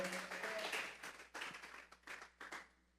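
Clapping from a church congregation, many hands striking in a soft, fairly steady rhythm, thinning toward the end.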